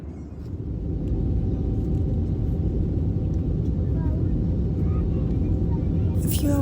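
Steady, dense low rumble fills an airplane cabin during a flight. The droning engine and air noise is close and constant, with a brief brighter rustle at the end.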